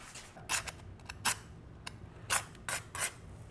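Wire cutters snip trussing wires off a grilled turkey, giving several sharp, crisp clicks in an irregular sequence, close by against a quiet outdoor background with no talking.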